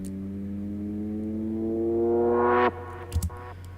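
A synthesized riser FX sweeps steadily upward in pitch, its brightness opening as an auto filter is automated. The sweep is cut off abruptly, and a couple of soft thumps follow in the quiet.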